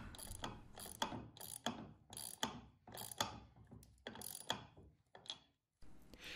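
A ratchet cranks down bolts on a magnetic base, giving about nine quick bursts of clicking strokes in an even rhythm, close and fairly quiet, with a short pause near the end.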